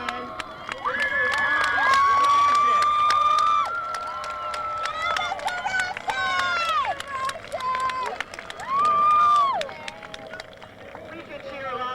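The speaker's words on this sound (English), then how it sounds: "We could cheer louder than that for him." A high school homecoming football crowd at St. Alphonsus cheers and shouts in loud bursts, with many young voices yelling and whooping over a lively babble that rises and falls across the stands.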